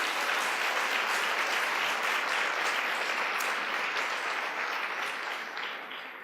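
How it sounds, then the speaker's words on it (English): Museum lecture audience gives a thick, continuous round of applause for a fashion exhibition sponsor, evenly sustained for several seconds before easing slightly at the end, with no talk. "I want to give a big round of applause to Nordstrom."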